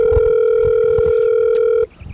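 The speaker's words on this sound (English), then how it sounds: "this thing came back. Let's call Freddy back again" A steady, loud telephone dial tone hums continuously, then cuts off abruptly near the end, leaving only faint background noise.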